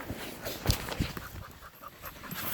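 A dog out on a shed hunt for antlers in big horn sheep country pants softly nearby in quick, breathy puffs, with a couple of sharper thumps, over quiet outdoor background and no talking.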